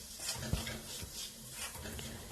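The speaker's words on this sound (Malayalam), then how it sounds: "അതുകൊണ്ടാണ് നിർത്താതെ ഇങ്ങനെ വഴറ്റിക്കൊണ്ടിരിക്കാൻ പറയണത്" Masala being stirred and sautéed in a pan for Kerala-style chicken curry, with soft scraping strokes and a faint sizzle running steadily at low level, no talking.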